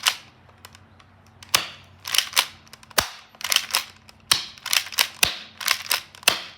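A gel blaster firing gel rounds in a rapid, uneven string of sharp snapping shots, some single and some in quick clusters, close and crisp against a quiet background with no talk.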